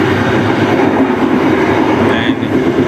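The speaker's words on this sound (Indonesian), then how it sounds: "sensasi atau suara-suara kereta ketika lari santai itu beda kok ketika sama lari kencang" A Bengawan passenger train cruising on rails below 70 km/h, a loud, steady rumble of wheels and carriage from inside, with continuous rolling noise and a faint brief squeal near the end.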